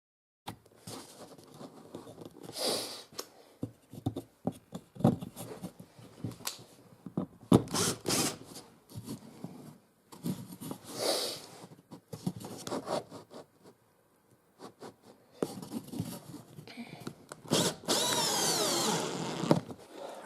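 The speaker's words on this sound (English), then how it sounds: "actually screwing these down onto the top of these shelves." Laminated curved deck beams for a wooden boat half deck being screwed down onto shelves: several bursts of a power driver with scraping and rubbing of wood in between, close by, with a long, loud driving run near the end.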